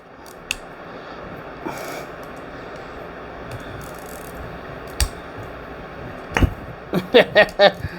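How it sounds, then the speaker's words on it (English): A reversible screwdriver handle is popped apart into a stubby driver, giving a few sharp plastic-and-metal clicks and snaps near the end, close and fairly loud against a quiet room hiss. "You pull it apart and it turns into a stubby."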